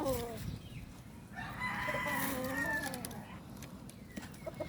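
A rooster crows among chickens in a gamefowl yard, a drawn-out call rising and falling over steady background noise, close by and moderately loud.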